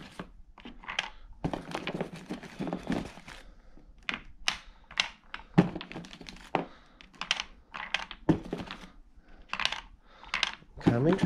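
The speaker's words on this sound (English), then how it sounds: "all you do is just drop your rounds into here" Rounds dropped one by one into the magazine of an Umarex HDB 68 airgun, 16-joule version, giving irregular close metallic clicks and clatters with brief pauses between.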